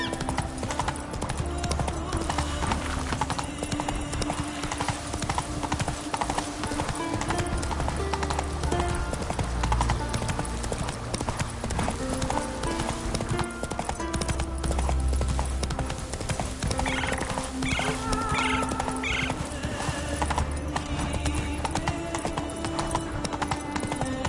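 Hooves of the horse Roach pound in a fast galloping rhythm in The Witcher 3 video game, loud and continuous for a long stretch over a game soundscape, with a brief neigh or whinny.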